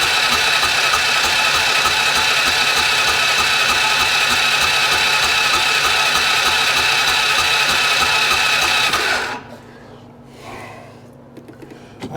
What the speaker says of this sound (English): So let's go ahead and crank it again.